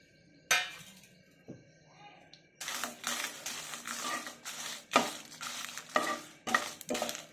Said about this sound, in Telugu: ఇప్పుడు ఎండుమిర్చి వేసేసుకొని వేపేసుకున్నాం.